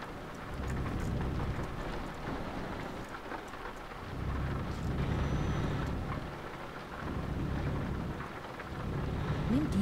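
Steady heavy rain drums on a truck cab in Switzerland as it drives through roundabouts, a dense continuous wash with low engine rumble beneath, close and loud, with faint intermittent hissing.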